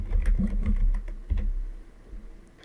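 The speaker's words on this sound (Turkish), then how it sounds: "şimdi birlikte 3412 sürümünü Google arama çubuğuna mBlock yazıyorum" Someone types a search term into a search bar on a computer keyboard: a quick, close run of soft key taps that thins out toward the end.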